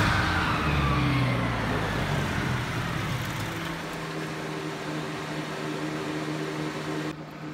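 A car engine runs at idle close by after the choke is pulled off, a steady droning hum with a lower rumble early that settles into an uneven, wavering idle until it cuts back near the end.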